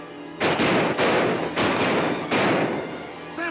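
Gunfire in a 1955 western film: four loud, sharp shots roughly evenly spaced, each followed by a short echoing tail, with no talk over them.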